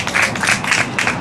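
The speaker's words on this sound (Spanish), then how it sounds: "Dale un fuerte aplauso al Señor." A church congregation applauding: steady, rhythmic group clapping with a roomy echo, loud and close, with no pauses.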